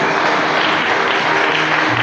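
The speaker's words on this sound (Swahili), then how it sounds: "Mpigie Yesu makofi" A church congregation claps together, a dense, steady wash of applause that fills the whole moment loudly and evenly.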